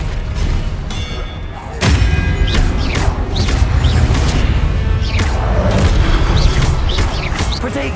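Spell blasts of Expelliarmus in Hogwarts Legacy, a heavy boom near two seconds followed by a dense, continuous barrage of thuds, whooshes and crashes of wizard combat, loud and busy throughout.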